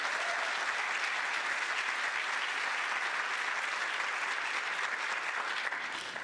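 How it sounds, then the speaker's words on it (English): Conference audience at an annual history and culture gathering applauding in a steady, even roar of many hands, sustained and uniform from start to finish with no talk over it. "Let's give them a round of applause,"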